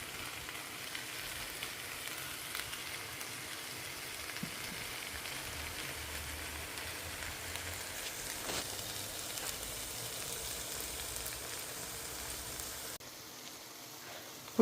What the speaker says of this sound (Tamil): சிறு தீயில் வச்சு கொஞ்சம் கொஞ்சமாக பரட்டி ஃப்ரை பண்ணிக்கிட்டே வரணும்